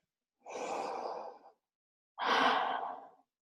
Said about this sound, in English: And just take another deep breath.